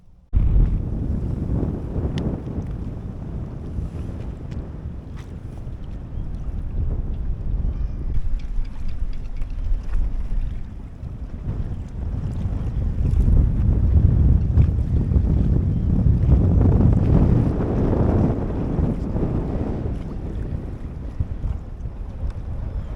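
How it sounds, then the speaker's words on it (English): Wind of about 15 knots blowing across a boat at anchor in a quiet anchorage, a low rumbling gusty roar buffeting the microphone, rising and falling in strength with faint water lapping underneath. "the wind is blowing about 15 knots"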